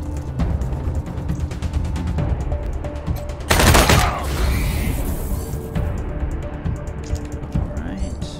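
Bursts of automatic gunfire in the video game Wasteland 3, dense rapid shots over busy game sound with a louder crashing blast in the middle, continuous and close throughout.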